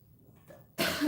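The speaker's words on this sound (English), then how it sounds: "Sorry if I cough in the speaker." After a quiet moment, a single sudden harsh cough bursts out close to the microphone.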